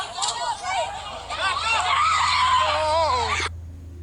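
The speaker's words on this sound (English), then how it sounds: "They were screaming because they were trying to arrest a woman that assaulted a police officer." A crowd screams and shouts during an arrest, with several high, wavering voices crying out over dense babble at a steady loud level, then cutting off abruptly near the end.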